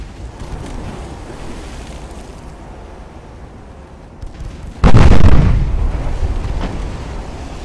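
Naval gunfire and shell hits from warships in the Ultimate Admiral: Dreadnoughts game: a steady low rumble of distant firing, then a sudden loud blast with a rolling boom that slowly fades, no voices.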